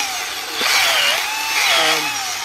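A handheld weeding drill spins into garden soil, churning up weeds into mulch; a steady close whirring motor drone swells twice, with no one talking.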